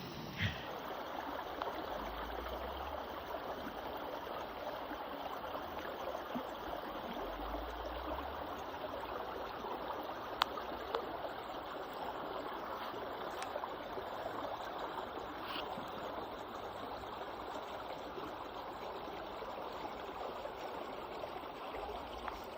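Creek water flowing beneath ice on Whitney Run, a steady soft rushing trickle heard outdoors at close range, continuous and gentle with a few faint clicks and no talking.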